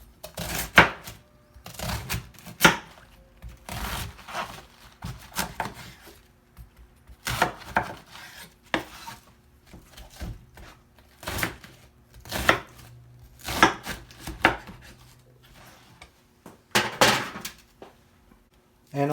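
A knife cuts cabbage into wedges on a board, giving irregular bursts of crisp crunching chops and thuds separated by short pauses, close and clear.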